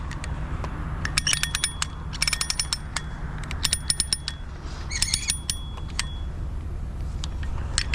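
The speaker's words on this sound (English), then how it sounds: "But I need slack in this cable so I can tighten up on it." A ratchet cranks tight a cable being tensioned for pedestrian safety, giving close, loud bursts of rapid metallic clicking that come in four separate runs over a low steady background.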